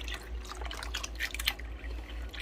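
Liquid pours into a pot of beans being cooked in a home kitchen, a splashing, trickling stream with scattered drips over a low steady hum, no voices.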